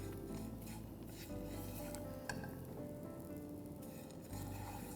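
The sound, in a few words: stirring roasting coconut and peanut mixture with garlic in pan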